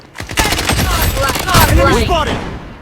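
Rapid gunfire in the shooter game Blood Strike, a dense burst of close, loud shots running almost continuously for the few seconds, with a voice talking underneath.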